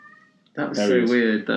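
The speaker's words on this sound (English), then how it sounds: "That's a cat." A house cat meows loudly and close by, a drawn-out harmonic cry that overlaps with someone talking over it.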